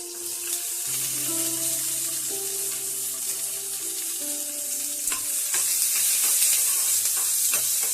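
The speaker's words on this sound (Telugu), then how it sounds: "ఆయిల్ వేడయ్యాక మనం పచ్చిమిర్చి కొంచెం ఫ్రై చేసుకోవాలి" Green chillies frying in a little hot oil for coconut chutney give off a steady, close sizzle that runs evenly for the whole stretch, with no talking over it.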